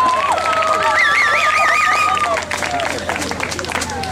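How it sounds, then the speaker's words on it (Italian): A crowd at a horse and country festival applauds and cheers after a dance performance, with continuous clapping, a few whistles and a voice over it. "Grande applauso!"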